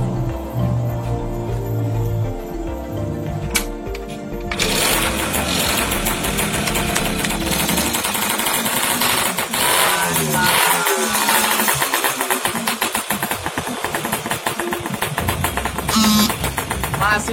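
An original Yamaha RS100 motorcycle engine runs steadily and loudly up close, its rough mechanical rattle continuing throughout with a faint voice in the background.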